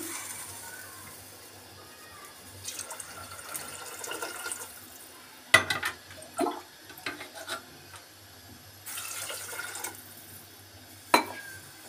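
Water pours into a pressure cooker of red lobia dal in a few bursts, splashing and gurgling, with clinks of metal cookware between pours; no talking.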